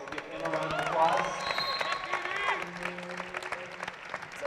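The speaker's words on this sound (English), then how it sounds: "So give him a round of applause." An audience at a men's college basketball home game applauds in a steady wash of clapping, with a voice talking over it and faint court noise underneath.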